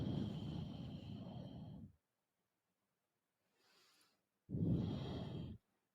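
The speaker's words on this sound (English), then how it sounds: "Some big deep breaths here." Loud, deep breaths in a power yoga class: a long steady exhale, a pause, a faint short breath, then another full forceful exhale, close and alone with no talking.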